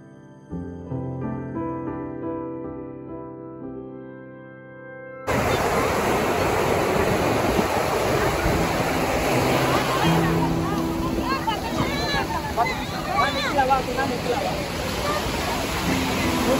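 Sea waves at Marina Beach, Chennai roar as a broad, continuous wash of surf noise, loud and close, with people talking and beach crowd chatter mixed in after a quiet music-like opening.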